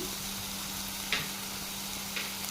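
Carrot halwa fries gently in a pan while being stirred, a quiet continuous sizzle under a faint steady hum, broken by two short scraping strokes of a spoon against the pan.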